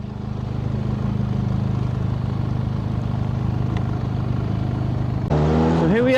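A car pulls away and accelerates along an open road, a steady engine drone building in loudness, with a brief voice near the end.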